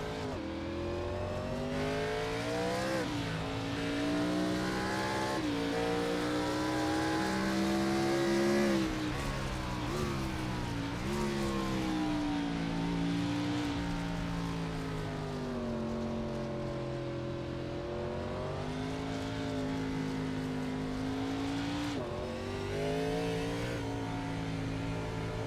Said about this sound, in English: Take a brief look on board with Young and see exactly how he's running the circuit